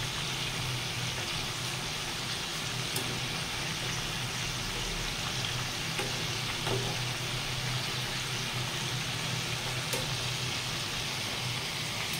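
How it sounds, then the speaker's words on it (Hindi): Food frying in a pan over the stove, a steady, even sizzle that continues without a break, with a few faint clicks and no talking. "इसे 2-3 मिनट और तक हम फ्राई करेंगे ताकि इसका कलर थोड़ा सा और अच्छा हो जाए।"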